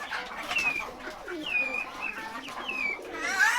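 Pigeons in a pigeon house coo repeatedly at close range, soft overlapping throaty calls with a few higher chirps over a low background murmur.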